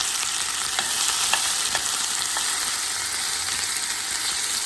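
Onions frying in a pan with hing, a steady dense sizzle with faint stirring clicks, close and alone without talk.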